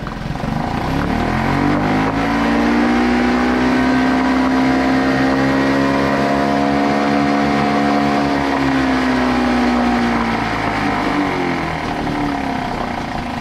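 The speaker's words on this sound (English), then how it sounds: "Look how low that idles down." A Suzuki 2.5 HP outboard motor with a freshly repaired carburetor runs loud and close, its engine drone climbing smoothly in pitch, holding high for several seconds, then easing back down toward a low idle.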